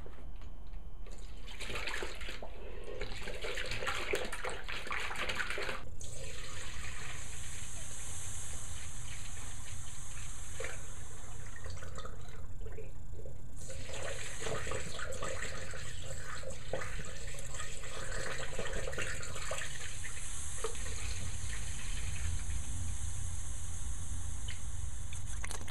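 Coolant pours steadily into a car radiator as the cooling system is refilled, a continuous close liquid gush and gurgle with occasional splashy sputters, heard without speech.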